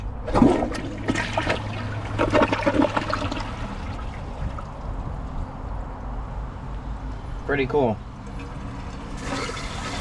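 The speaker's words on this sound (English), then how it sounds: "Here's another flush." A 2025 Kohler Highline Arc toilet flushes up close with a loud rushing gurgle and swirling water that trails into trickling refill, while someone speaks briefly over the start.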